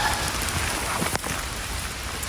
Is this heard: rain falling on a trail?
yes